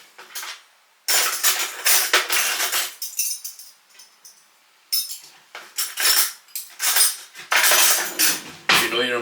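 A teaspoon repeatedly clinking and scraping against a cup in bursts of bright metallic chinks, close and fairly loud, with short pauses between bouts.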